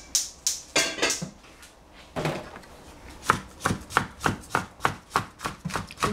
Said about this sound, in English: cut the capsicum.